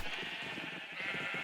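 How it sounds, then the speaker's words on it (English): Minecraft sheep bleating faintly in a survival world, a soft pulsing series of short bleats over steady background hiss, with no talking. "I should probably make a few yellow sheep."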